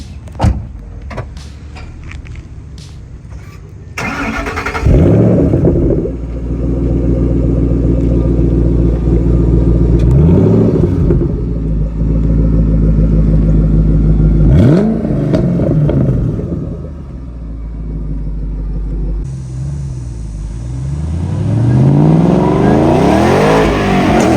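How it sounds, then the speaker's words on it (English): A stock 2013 Ford Shelby GT500 Mustang with its factory quad-tip exhaust revs loudly and close by, a deep engine roar that climbs and falls in several distinct surges, building again toward the end, with no talking. "We're gonna get later a little sound clip of this thing. This thing sounds bonkers stock."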